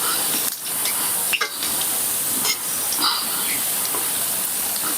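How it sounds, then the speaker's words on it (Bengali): Potato and onion pakoras fry in oil in a kadai, giving a steady, close sizzling hiss that runs the whole time, with a few soft stirring knocks and bubbling pops on top. "আর এভাবেই আমি সম্পূর্ণ সব পকোড়াগুলো একইভাবে ভেজে নেব"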